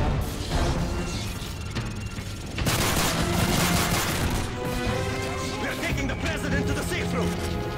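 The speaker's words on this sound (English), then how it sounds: "Gunfire!" Heavy gunfire erupts in the Modern Warfare 3 campaign aboard a plane, a dense, loud fusillade of rapid shots and crashes layered over shouting voices and tense game music.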